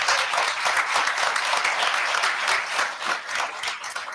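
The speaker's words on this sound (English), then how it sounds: "If we can give her a round of applause." Applause fills the room at a school district board meeting, many hands clapping in a dense, fairly loud patter that holds steady with slight dips, and no voices stand out.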